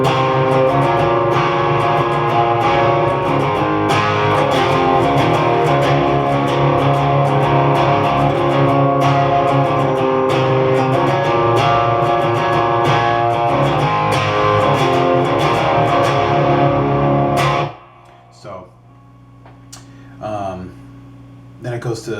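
A distorted electric guitar hammers out a riff in dense strummed power chords, loud and continuous, then cuts off sharply and a few lighter picked notes ring out afterward.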